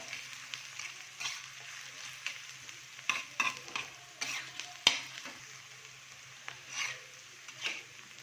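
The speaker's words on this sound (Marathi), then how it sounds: "व्यवस्थित परतून घ्यायचं आहे" Onions sizzle softly in a pan while a spoon stirs them, giving intermittent scraping strokes and light clinks over a low, steady frying hiss, fairly quiet and close.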